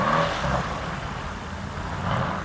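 Cars pull away from a car-show exit at a moderate distance, engines revving and accelerating in two loose surges with a steady rumble between, and no talk over them.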